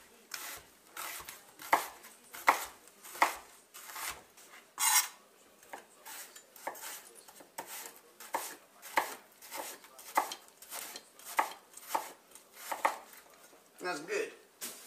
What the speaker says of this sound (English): Just cut your onion down into slices